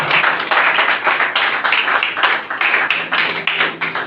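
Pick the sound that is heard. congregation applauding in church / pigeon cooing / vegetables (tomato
congregation applauding in church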